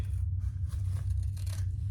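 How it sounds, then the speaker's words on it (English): Scissors trimming a piece of leather during sewing work, giving close crisp snips and a brief rough cutting rasp over a low room hum. "let me grab my scissors, trim that to about 1/4 inch"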